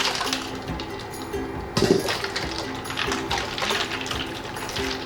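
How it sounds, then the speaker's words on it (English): Cooked somen noodles are dropped into a bowl of ice water, with watery splashing, sloshing and a few faint clinks of ice close by, and a sharper splash midway. "Then release it in ice water."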